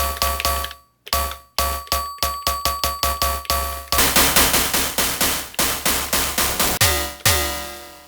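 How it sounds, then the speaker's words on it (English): Punchy synthesized FM drums from a Digitone II synthesizer, with metallic, bell-like ringing tones, hit in a quick irregular pattern. Each strike is loud and close, then decays fast. "these are very FM sounding drums"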